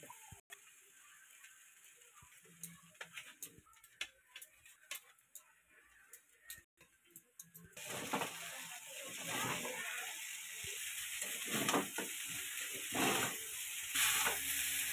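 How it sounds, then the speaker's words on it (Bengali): Macaroni pasta is stirred in a pot, with scattered light ticks and clinks of a utensil against the vessel, then a louder bubbling, sizzling wash builds midway and continues under further stirring. "পাস্তাটা আমি নাড়াচাড়া করছি।"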